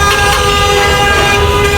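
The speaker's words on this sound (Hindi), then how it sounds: "इस दौरान एक तेज़ रफ्तार गाड़ी ज़ोर से हॉर्न बजाते हुए बिल्कुल मेरे करीब से गुजरी।" A speeding car passes very close at a busy bus terminal in Pakistan, sounding one loud, sustained, brassy horn blast throughout, with no voices.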